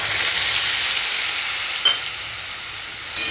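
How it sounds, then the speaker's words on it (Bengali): A paste of tomato, ginger and green chili hits hot oil in a pan and sizzles steadily and loudly, a bright continuous frying hiss with a couple of faint clicks near the end. "এরপর এখানে দিয়ে দিচ্ছি টমেটো, আদা, কাঁচা লঙ্কার পেস্টটা।"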